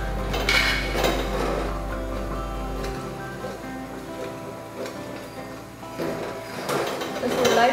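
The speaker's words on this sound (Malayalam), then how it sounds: "നമ്മളിത് ഒഴിച്ചതിന് ശേഷം നന്നായിട്ട് നന്നായി ഇളക്കി കൊടുക്കണം" A spoon stirs rice flour paste into chana dal (lentil) payasam, Kerala parippu pradhaman, in a cooking pot, with steady scraping and clinking against the metal alongside faint background sound.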